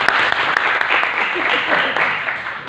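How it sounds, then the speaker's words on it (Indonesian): Seminar audience applauding steadily for a speaker, a dense wash of clapping that carries on throughout with no letup. "Tepuk tangan untuk Bapak Sahidin."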